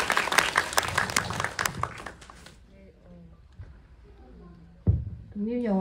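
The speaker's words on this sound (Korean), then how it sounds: "다시 한번 박수 부탁드리겠습니다." Audience applause for a film crew at a Korean independent film festival short-film screening, dense clapping for about two and a half seconds that fades out, followed by someone speaking.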